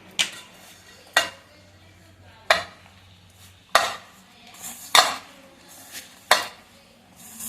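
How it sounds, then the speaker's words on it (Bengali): Roasted gram flour (sattu) being mixed in a bowl with mixed pickle, giving a series of sharp, fairly loud scraping clacks of a utensil against the bowl at an uneven pace, with no talking. "এবারে ছাতুটাকে ভালো করে মাখিয়ে নেব।"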